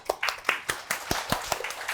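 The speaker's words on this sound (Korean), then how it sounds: "박수." A small audience at a firefighter civil-service exam success talk gives brief, sparse applause: about a dozen distinct hand claps in an uneven rhythm, close by and moderately loud, with no talking.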